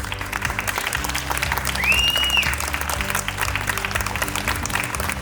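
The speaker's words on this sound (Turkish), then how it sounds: "Bu tekne kokan kadınlara büyük alkış" Audience applauding a women's theatre troupe from Hatay at a village coffeehouse performance, steady continuous clapping throughout with a brief whistle-like tone near the middle.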